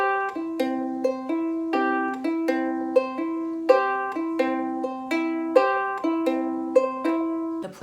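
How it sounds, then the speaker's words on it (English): Ukulele with the bottom and top strings plucked together, a series of about a dozen clear, ringing two-note plucks in an even, unhurried rhythm, close and alone. "So if you want to pluck both the bottom string and the top string at the same time"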